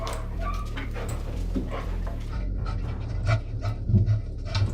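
A military working dog pants rapidly and steadily at close range in a training room, with a few faint whimpers and no talk.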